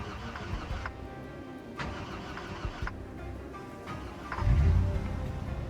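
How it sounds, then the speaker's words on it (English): A car engine in the Project Zomboid video game cranks with a few uneven turnovers in arctic cold, barely catching, then fires and settles into a mid-pitched idle near the end; no one speaks. "The car engine knows it, as it barely started."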